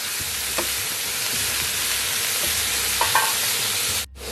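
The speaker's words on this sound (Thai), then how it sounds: "เราก็ผัดครับ" Cauliflower, long beans and carrots stir-fried in a pan for vegetable biryani give a loud, steady sizzle with scraping spatula strokes throughout, no talking.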